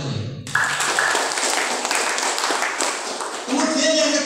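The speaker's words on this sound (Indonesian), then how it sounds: "Tepuk tangan buat gue." Clapping and applause from an audience at a company presentation for a general manager, a steady crowd patter that swells and holds, with a voice speaking near the end.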